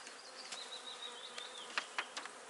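Honeybees buzzing around an open apiary hive during frame work in poor weather, a steady near drone with a few sharper passes of individual bees close by, no talking.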